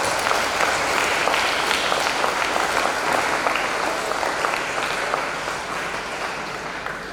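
A large crowd claps continuously at a sermon gathering, a dense, steady wash of applause that slowly fades slightly toward the end.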